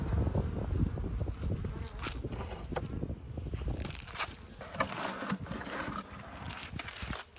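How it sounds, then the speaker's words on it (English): Honey bees buzzing around a full hive in winter during fondant feeding, a faint steady drone with scattered bumps and handling noises nearby. "A good full hive."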